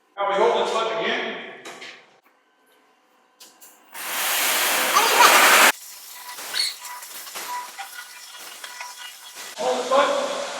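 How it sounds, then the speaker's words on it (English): Water blasts out of a grit screen dewater chamber in a loud, steady broadband rush lasting under two seconds, then cuts off abruptly; people talk before and after it. "Water just blasting out."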